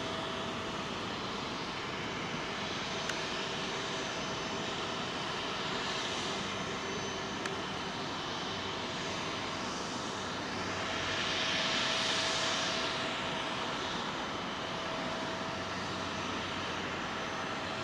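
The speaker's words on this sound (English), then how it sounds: "that 747, I think she's going to taxi all the way up here" A Boeing 747 taxiing at Heathrow gives off a steady, distant jet engine drone, fairly faint and unchanging, swelling slightly for a few seconds toward the end.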